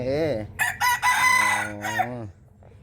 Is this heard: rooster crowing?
yes